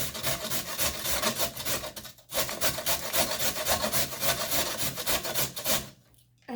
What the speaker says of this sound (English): we're going to grab our cheese grater and a carrot